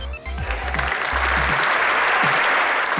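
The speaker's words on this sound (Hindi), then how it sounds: "प्लीज़ जोरदार तालियों के साथ स्वागत कीजिए" Applause from a seated audience greeting a doctor invited onto the stage at a business success event in India, a dense wash of clapping that holds steady for a few seconds, with some low thumps near the start.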